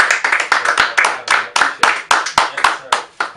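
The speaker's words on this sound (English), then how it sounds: "Hey, clap it up." Hand clapping in a radio studio, a few people clapping loudly and close in quick uneven bursts, each clap sharp and distinct.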